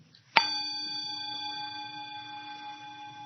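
A meditation bell is struck once, giving a clear, bright ding that rings on with a long, slowly fading sustain in a quiet room.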